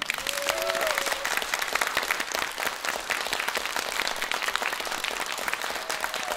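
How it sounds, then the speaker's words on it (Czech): Audience applause at a Christmas concert, a full crowd clapping steadily and evenly throughout, fairly distant and moderate in level, with a brief faint tone audible beneath it. "Pojďte zatleskat opravdu pořádně."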